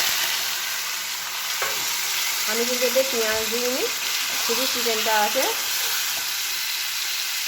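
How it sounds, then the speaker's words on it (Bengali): Turmeric- and oil-coated chicken sizzles steadily in hot oil in a wok, a dense, close hiss running throughout while someone talks over it. "কড়াইয়ে আমার তেল গরম হয়ে গেছে। এবার এই চিকেনটা আমি এর মধ্যে দিয়ে দেবো"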